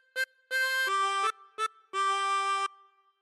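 A harmonica plays the opening phrase of Old MacDonald Had a Farm, a short melody of five clear, reedy notes with two brief stabs and longer held tones, played alone and close.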